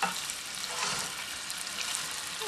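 Three meats for jambalaya sizzle and fry in a pan, a steady broadband crackle with faint stirring, close and continuous, with no talking.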